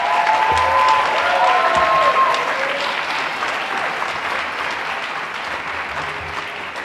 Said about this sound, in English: can we get one more round of applause for that ensemble?